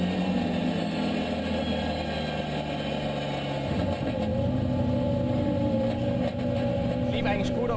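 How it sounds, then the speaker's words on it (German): A race car engine drones through laps at a VLN endurance race at the Nürburgring, a continuous mid-pitched roar with shifting revs, heard under steady commentary. "Bernhard fährt ganze 3 Runden."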